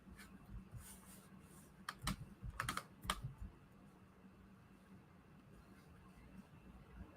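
Typing on a computer keyboard, with scattered key clicks building into a quick cluster of sharp taps midway, then fading back to a quiet background hum.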